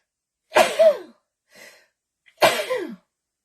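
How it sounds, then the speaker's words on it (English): A woman sneezes sharply, followed by a softer breath and then a second forceful sneeze, close and clear in an otherwise quiet room. "Oh, I feel a sneeze."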